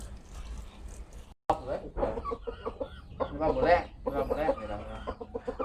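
Several chickens cluck at dusk in a rural farmyard, close and fairly steady, while someone talks over them throughout.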